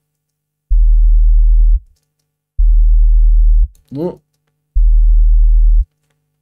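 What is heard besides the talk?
sub bass tone with clipping distortion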